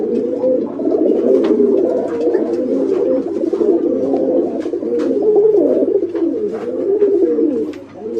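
Pigeons coo continuously in a dim pigeon farm room full of large birds, with several overlapping soft, throaty calls forming a dense, close, rolling murmur and no one speaking.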